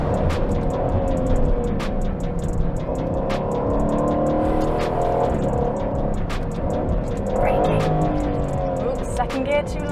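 Aston Martin Vantage F1 driven on a race track, a steady engine drone with shifting pitch and faint tyre noise, with a person talking over it.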